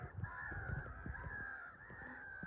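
Faint birds honk and squawk repeatedly, overlapping harsh calls over a low background rumble, in a garden at Leigh Park.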